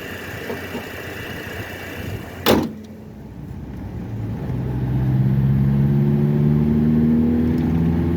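A Nissan D21 pickup truck with an engine miss: a door clunk, then the engine settles into a steady running hum as the truck pulls away.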